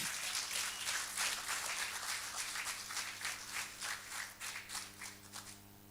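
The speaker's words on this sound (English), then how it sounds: "Another round of applause, please." An open-mic poetry audience gives a round of applause, dense clapping that stays steady before thinning into scattered, distinct claps toward the end.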